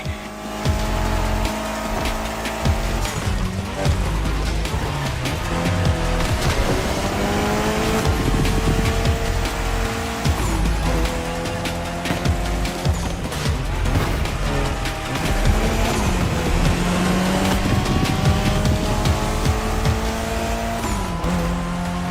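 A Mitsubishi Lancer Evo X racing in The Crew Motorfest, its engine roaring loud and continuous with rising and falling revs through gear shifts, plus intermittent tire squeal, heard alone throughout.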